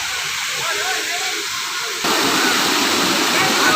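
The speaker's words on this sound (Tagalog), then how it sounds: "Ang lakas ng agos ng tubig oh." A strong water current surges through Mina Tunnel, a loud, constant rushing hiss that grows fuller and closer about halfway through, with a voice speaking over it.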